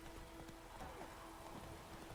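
Rain falls in The Witcher 3: Wild Hunt, a soft, steady hiss of drops on surfaces with scattered patters, faint and continuous with no voices.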